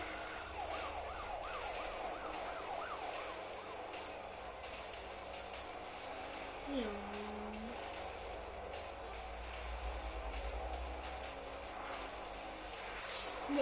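A police siren wails in a driving video game, its rising and falling tone fairly faint and distant over a steady engine drone, followed by a brief tire squeal.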